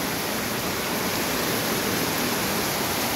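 Floodwater rushing through a flooded street in Holy Spirit, Quezon City, a dense, steady broadband roar like a heavy stream, loud and continuous with no break.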